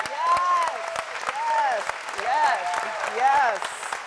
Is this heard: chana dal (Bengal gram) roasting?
no